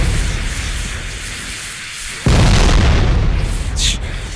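A grenade blows up in modded Factorio: a single loud, deep boom bursts in midway through and leaves a rumbling, noisy tail over a quieter background.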